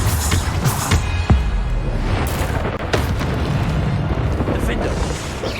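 Repeated Bombarda spell explosions in the video game Hogwarts Legacy. Loud booming blasts and crackling bursts land over a dense, continuous battle din, while a voice keeps calling out.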